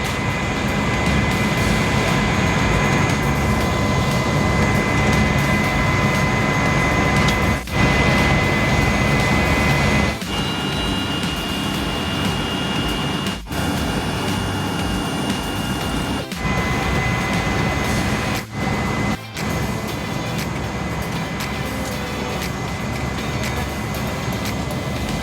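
A seaplane takes off in Dubai, heard from inside the cabin as a loud, steady engine and propeller drone that roars without a break, with a few brief dips.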